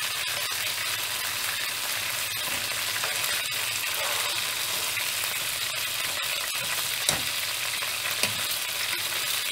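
Pork tenderloin browns in a hot frying pan for pepper-sauce solomillo, giving a steady, close, dense sizzle with small crackles and a faint scrape or two, and no talking.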